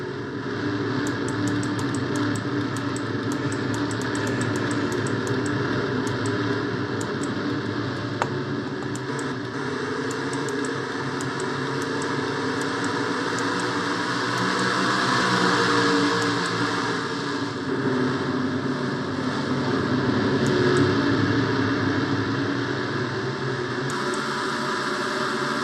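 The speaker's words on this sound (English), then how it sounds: "Cars remain single file at this moment here." Stock cars running in single file at Martinsville in a racing video game, a steady droning engine roar that swells and eases slightly over a long stretch, with no talk.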